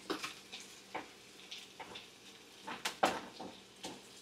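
Garlic and ginger frying over medium heat in a pan while cooking chicken porridge, a quiet steady sizzle broken by a string of sharp stirring clicks and scrapes against the pan.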